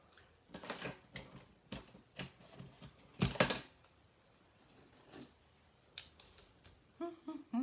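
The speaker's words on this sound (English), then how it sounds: "you're going to start by making a cut" Scissors snipping paper for a handmade stamped card, with a series of quick, close cuts and crisp rustles, one louder burst midway, and faint handling noises between.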